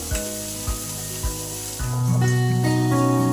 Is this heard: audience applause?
no